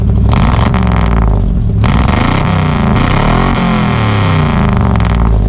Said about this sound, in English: Now, this truck is very loud, and I have a decibel meter to prove it.